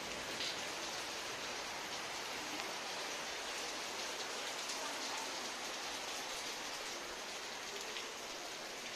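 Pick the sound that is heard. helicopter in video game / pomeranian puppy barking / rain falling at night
rain falling at night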